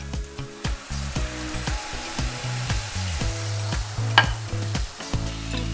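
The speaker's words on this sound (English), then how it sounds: "we're just gonna let this simmer until it's nice and thick" Mushrooms simmer in a pan with almond butter, lemon juice and balsamic, giving a close, continuous sizzle and bubbling with occasional stirring scrapes throughout.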